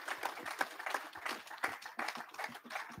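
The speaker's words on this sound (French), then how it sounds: "Applaudissez nos sportifs," Quiet, fairly sparse clapping from an audience at a conference on sport and health, applauding athletes; individual claps stand out in an uneven rhythm, somewhat distant and faint.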